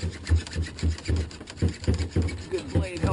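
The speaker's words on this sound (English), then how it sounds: "Good hacksaw makes a big difference." Hacksaw with a dull blade cutting a sump pipe fitting in a crawl space, a close, rhythmic rasp of about ten quick back-and-forth strokes, fairly quiet.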